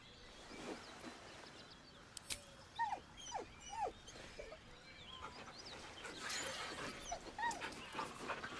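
A dog in the game Baldur's Gate 3 whines softly, with several short rising whimpers and yips heard faintly against a quiet ambient background.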